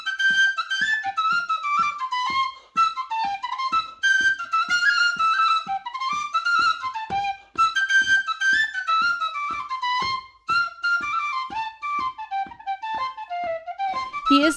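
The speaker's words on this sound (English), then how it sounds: "Sean played his whistle for us." A tin whistle plays a lively Irish melody inside a castle in Ireland, with bright ornamented notes and quick runs from a close player, sustained for about fifteen seconds with only brief breaths between phrases.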